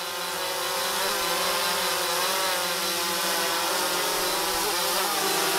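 An Autel Evo drone hovers nearby, its rotors giving a steady, loud whirring whine with slight pitch wavers that never lets up.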